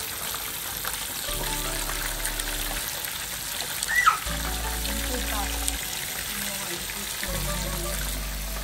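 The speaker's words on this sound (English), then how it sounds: "So you're going to let that fry for about 15 minutes on each side." Food frying in very hot oil in a home kitchen, a steady close hissing sizzle that runs throughout, with a brief louder crackle burst near the middle.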